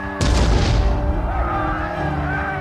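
A single heavy cannon blast from a Napoleonic battle booms out suddenly and loud, then rolls into a long, deep rumbling echo.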